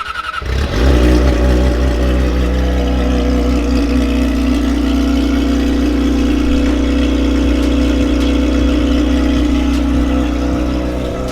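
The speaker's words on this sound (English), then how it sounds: "let's jump on the R6, head down there" A Yamaha R6 motorcycle engine starts up and runs loud and close, holding a steady rumbling drone with mild rev changes for about ten seconds, no talking.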